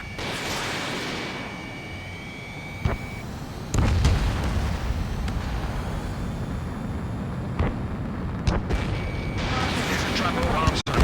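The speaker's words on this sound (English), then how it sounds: "They're dropping bombs on a passive enemy just in that raid." Bombs and explosions in an Ace Combat air raid, booming blasts and sharp impacts over a steady jet aircraft roar, with voices talking throughout.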